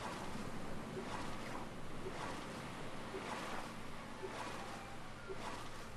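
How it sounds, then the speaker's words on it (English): Rough open-ocean waves in the survival game Stranded Deep, heard from a raft as a continuous broad wash of surf and wind with softer swells surging roughly every second, no voices over it. "look at these waves"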